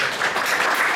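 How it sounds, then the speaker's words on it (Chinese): A lecture audience claps steadily and densely for about a second, with a full, even sound of many hands. "那也为各位自己拍拍手"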